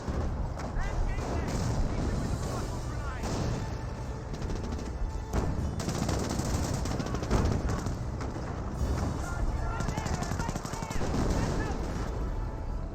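Continuous rifle grenade fire and gunfire from German Grenadiers in a Company of Heroes 1 battle between Wehrmacht and British forces, with dense overlapping shots, blasts and explosions over a steady loud din, while a commentator talks.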